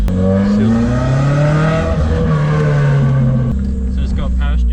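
A small 4-cylinder carburetted car engine runs steadily at close range, its low droning tone rising slightly and holding, with people talking over it throughout.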